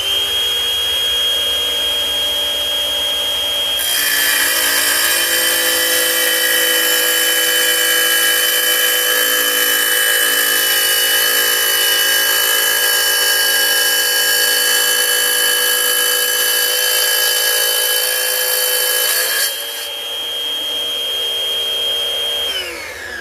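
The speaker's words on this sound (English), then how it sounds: "Cut right through it like butter. Not bad for a cordless saw." A Kobalt 24-volt cordless wet tile saw cuts through tile, a loud steady high whine that starts abruptly, holds evenly for about fifteen seconds, then drops to a lower idling hum.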